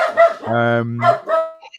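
A dog barks a few times in quick succession, loud and close, with people talking around it.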